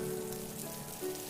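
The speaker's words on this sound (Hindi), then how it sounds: "तभी बारिश और बढ़ जाती है।" Heavy rain in a Hindi cartoon patters steadily on a surface, a dense continuous wash of drops with a faint low hum beneath.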